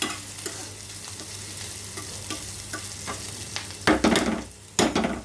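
Eggplant curry ingredients frying in a pan, a steady sizzle under light scraping stirs, then two louder spoon-against-pan scrapes near the end, close and alone with no talk.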